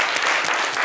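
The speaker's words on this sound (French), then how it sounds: "Voilà, on applaudit." A short, dense burst of clapping from a studio audience, with children present, fills the whole moment on a French football talk show, loud and close with no speech over it.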